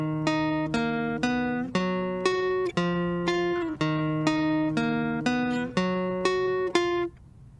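Acoustic guitar plays a verse riff, plucked notes and short chord stabs in a steady, rhythmic pattern with clear attacks, close and unaccompanied by talk.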